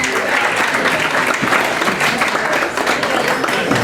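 Wedding guests break into a sustained round of applause after a speech, with a thick, even wash of clapping that holds steady for several seconds without talk.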